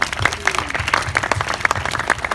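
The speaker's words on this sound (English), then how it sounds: "can I ask for a big round of applause for the 9 breeds of sheep that we have here on the Sheep Show?" An audience at a live sheep show with nine breeds on stage breaks into applause, a brisk crowd of many hands clapping continuously at moderate distance, with some voices underneath.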